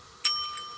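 A single bright bell ding from a toy face-change Rubik's cube game strikes sharply and rings on with a clear, sustained tone that fades slowly; nobody talks over it.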